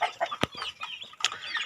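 Dekalb chickens cluck close by in short irregular calls, with a couple of sharp louder squawks among the softer clucks.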